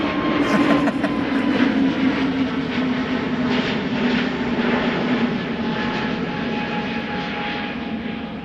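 A fixed-wing airliner at Schiphol airport roars with a loud, sustained engine drone and whine that holds steady and then eases slightly as it recedes, with no talking.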